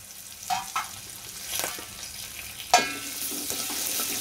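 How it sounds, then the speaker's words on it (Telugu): Tempering spices hit hot oil in a pan with short crackling bursts and sharp pops, a few spaced spits then a settling sizzle, close and fairly quiet. "ఇది బాగా వేయించుకోవాలి."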